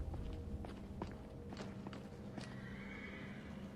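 A horse in the Skyrim VR video game whinnies several times with sharp rising calls, while hooves clip-clop steadily at a walking pace underneath, fairly close and clear.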